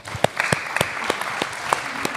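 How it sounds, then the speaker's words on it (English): An audience in a high school gym claps for a panel at a volleyball fall preview, a brief patter of sharp, fairly close hand claps with a faint voice under it. "give a little round of applause for our panel up here"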